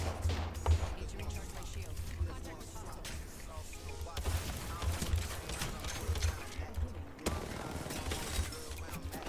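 Video game gunshots pop repeatedly at moderate volume amid busy combat noise, with a voice talking over the shooting throughout.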